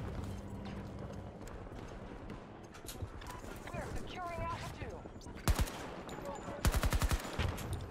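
Enemy gunfire in Battlefield 2042 cracks in rapid automatic bursts, two loud clusters standing out late amid continuous battlefield noise, under a player's talking.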